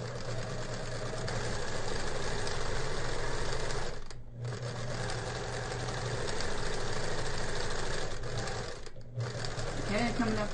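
A sewing machine runs steadily while stitching a fabric iPad cover, with a rapid mechanical hum and two short pauses. A voice talks over the stitching the whole time.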